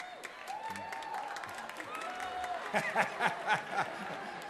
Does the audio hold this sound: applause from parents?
yes